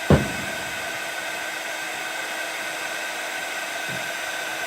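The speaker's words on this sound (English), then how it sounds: "I'm just now heat setting it" A heat tool blows steadily to heat set a thick craft coating, a continuous close whooshing hiss that runs the full length after a brief bump at the start, with no voices.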